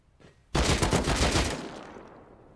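A loud, rapid burst of AK rifle fire in the game Rust lasts about a second, then its echo trails off and fades.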